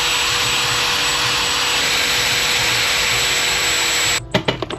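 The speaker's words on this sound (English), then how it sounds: "So I think I just need to oblong 1 of those round holes." A power tool elongates round bolt holes into oblong slots on the sports catalytic converter flange of an Astra H VXR, a loud continuous whirring whine that cuts off near the end, followed by a few sharp metallic knocks.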